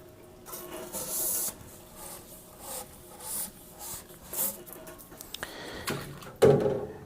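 A brush scrubs inside the cylinder of a GES 5099/5400 soft-serve machine during cleaning, giving intermittent rubbing, scraping bursts of varying loudness, with a louder clatter near the end.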